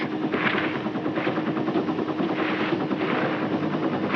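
Military helicopters airlift Marines in Vietnam. The steady, loud rotor throb and engine roar carry a rhythmic chopping pulse, with no speech.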